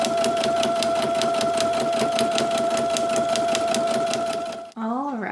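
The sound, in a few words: sewing machine straight stitching four fabric layers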